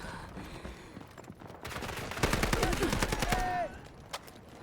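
Gunfire in the Delta Force video game: a rapid burst of automatic shots rattles for over a second, standing out against quieter background game noise.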